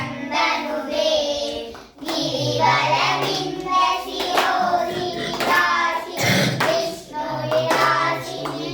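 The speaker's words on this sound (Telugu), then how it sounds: "చప్పట్లు కొట్టమని చెప్పు." People clap hands in rhythm during devotional chanting at a Mukkoti Ekadasi puja in Tamil Nadu, claps falling under loud group singing voices that carry the melody almost throughout, with a brief pause near the two-second mark.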